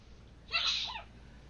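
One short sneeze sounds at moderate volume, a sharp burst over a quiet background, with no other voices.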